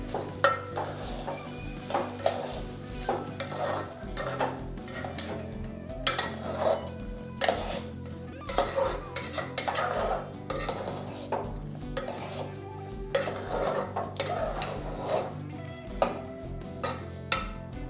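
A spoon stirs lapsi cooked with jaggery, cashews and almonds in a pan, making repeated scraping strokes and metal clinks at an uneven rhythm, close and with no talk.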